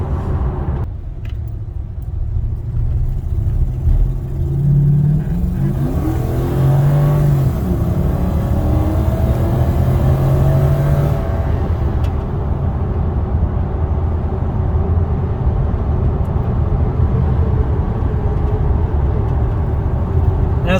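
A 2013 Toyota Hilux 2WD ute fitted with a 3UZ V8 and a 6-speed A761E automatic drives steadily uphill, its engine droning loud and close, rising in pitch through the gears before settling into a level cruise.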